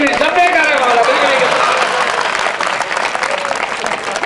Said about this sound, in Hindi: तो जोरदार तालियां चाहूंगा मंच से भी और सामने से भी